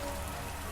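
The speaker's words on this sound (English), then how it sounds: "It is raining a lot outside" Heavy rain falls outside, a dense, unbroken hiss of drops on surfaces with no voices.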